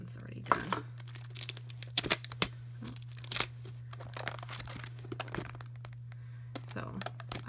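Cutting open a pack of foil craft papers, with crinkly snips, tearing and rustling of paper and plastic packaging close by over a steady low electrical hum.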